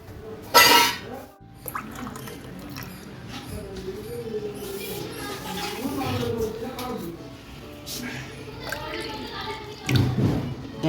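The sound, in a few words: pouring water into a pan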